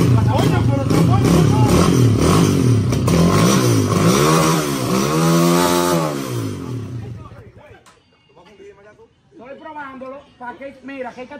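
A small motor runs loud and close, revving up and down in rising and falling sweeps before cutting out, after which people talk.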